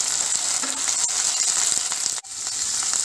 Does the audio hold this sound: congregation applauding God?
no